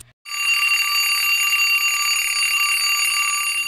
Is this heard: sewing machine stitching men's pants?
no